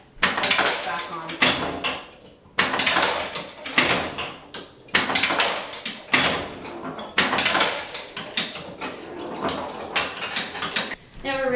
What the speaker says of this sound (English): And then you have to close the door to put it back on.